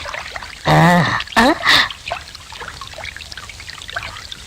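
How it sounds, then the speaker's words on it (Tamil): Water splashes as clothes are washed by hand in a Tamil film scene, with a couple of loud close bursts early on, then fainter, scattered splashing and trickling. "எவ்வளவு துணி தான் துவைக்கிறது"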